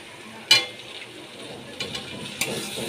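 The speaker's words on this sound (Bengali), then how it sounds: "ভালো করে কষিয়ে নিতে হবে। এর মধ্যে আমি আলু দিয়ে দিচ্ছি।" Potatoes sautéed in a pan with Kashmiri chilli powder, a soft sizzle under a few sharp scrapes and clinks of a spatula on metal, close and moderately loud.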